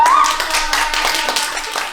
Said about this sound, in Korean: 그래서 박수 크게 쳐주고 싶었어요